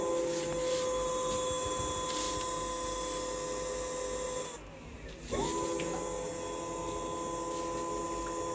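A Nanowheel electric kick scooter with a 54.1 V battery has its motor spun up on test, giving a steady whirring whine that cuts out briefly and then spins back up, with faint talk in the background.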